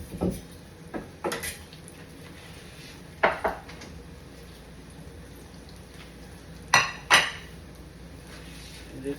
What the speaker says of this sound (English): Now let me go ahead on and cut and rinse my cabbage.